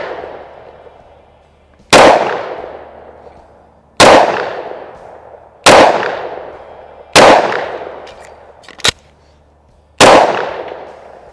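Six loud, close shots from a Springfield XDM Elite 10mm pistol, fired alone at an unhurried pace of about one every two seconds, each a sharp crack with a trailing echo, and one extra faint snap between them.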